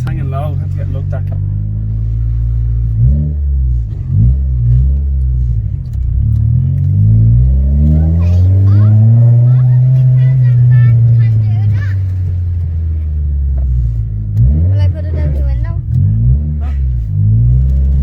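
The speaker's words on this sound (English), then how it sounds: "That's just the exhaust when it's hanging low." A car with a low-hanging exhaust rumbles with a deep, droning note that swells and falls during slow driving, heard close inside the cabin beneath people chatting.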